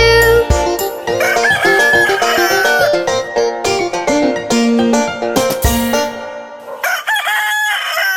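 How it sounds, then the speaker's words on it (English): Cartoon rooster crowing cock-a-doodle-doo in a children's nursery rhyme, loud and drawn out over bright backing music with no talking. "Sing cock-a-doodle-doo."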